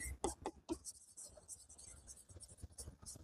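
Handwriting scratches out an accounting journal entry in faint, quick bursts of strokes. It is quiet and close, with soft low murmurs around it.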